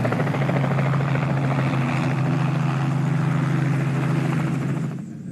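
Helicopter engine and rotor heard from inside the cabin: a steady, loud mechanical drone with a strong low hum that holds continuously, easing off slightly at the very end.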